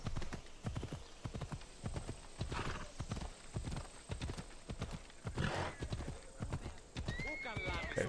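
Rhythmic hoof clip-clops trot steadily close by while a horse whinnies, with a short neigh near the end, in the video game Assassin's Creed Odyssey; a voice talks faintly over it.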